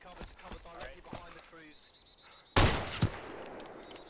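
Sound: gunfire in a video game

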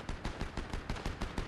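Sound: gunshots in the video game Fortnite

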